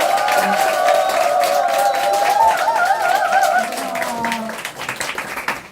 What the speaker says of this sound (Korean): 여러분 뜨거운 박수로 맞아주세요.